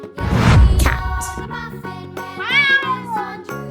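A cat meows several times in close succession, near and clear, with drawn-out rising and falling cries and no talking.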